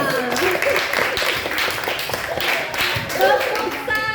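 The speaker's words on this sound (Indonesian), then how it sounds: "tepuk tangan untuk kita semua" Children clap their hands together in a busy, uneven burst of applause, with voices chattering throughout.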